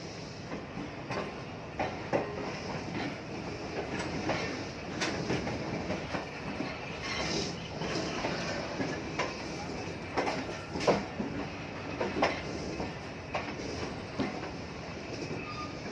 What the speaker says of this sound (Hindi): 15 अब कराची एक्सप्रेस रवाना हो रही है मुल्तान कैंटोनमेंट रेलवे स्टेशन से